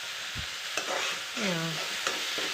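Tomatoes and onions fry in a pan with a constant close sizzle, broken by a few spoon knocks and a brief scraping stir.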